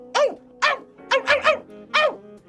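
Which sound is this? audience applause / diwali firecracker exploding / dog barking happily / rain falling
dog barking happily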